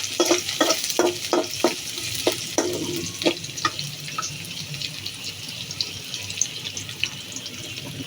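Food fries in overheated oil with a continuous close crackle and hiss, punctuated early on by a quick series of sharp clicks from stirring in the pan.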